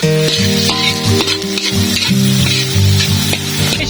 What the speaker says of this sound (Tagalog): Gigisa. At lalagyan na natin ang mga ricado.